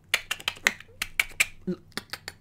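A voice rapidly imitates the clicking of clicker zombies from The Last of Us, producing a quick series of sharp, dry clicks in an irregular rhythm, close and fairly quiet.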